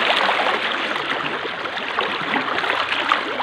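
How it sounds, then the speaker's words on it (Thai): Water gushing hard from a pump outlet beside rice paddies, a loud, steady roaring splash like a small waterfall, continuous and close with no speech. "สูบน้ำแรงมาก"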